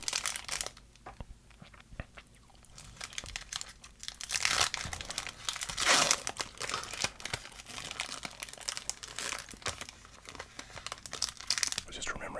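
Foil trading card packs are torn open and handled up close, giving dense crinkling, crackling and tearing with sharp rustles and card shuffles. A soft whispering voice drifts in and out underneath.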